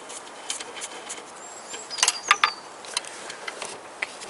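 Bolts being removed from an Evinrude 4 HP outboard motor during disassembly, with close, faint metallic clicks and ratcheting taps in an irregular cluster.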